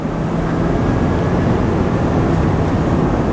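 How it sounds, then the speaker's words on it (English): A 2022 Ford F350 Platinum turbo diesel pickup under wide open throttle at 60 mph as the 10-speed transmission drops into 7th gear: a loud, steady, low engine roar heard from inside the cab, continuous throughout. "This is a 60-mile-an-hour wide open throttle"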